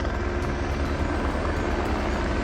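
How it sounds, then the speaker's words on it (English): A helicopter arriving at a remote hunting camp in New Zealand's Fiordland, its rotor and engine roar loud and steady throughout, with no voices over it. "Here we are, last day, chopper's coming in."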